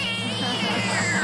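A single cat meow used as a comedy sound effect rings out loud and close, a wavering cry that lasts about a second with nothing else around it.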